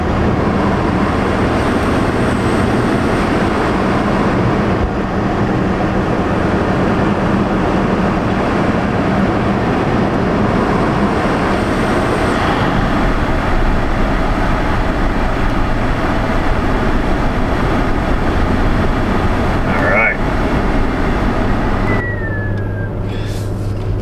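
Air conditioning blower of a Toyota RAV4 runs inside the cabin, a steady broadband whoosh with a low engine hum beneath it, continuing evenly for over twenty seconds before a brief change near the end.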